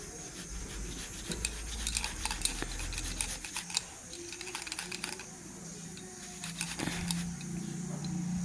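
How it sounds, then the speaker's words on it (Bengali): A large boiled potato is grated by hand on a grater in quick bursts of scraping strokes, soft and close, with short pauses between rasping passes and a faint low rumble in the background. "আলুটাকে আমি গ্রেটার সাহায্যে গ্রেট করে নেব"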